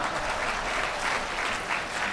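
Steady audience applause fills a Ramkatha discourse hall, a dense continuous patter of many hands clapping at fairly even loudness with no talk over it.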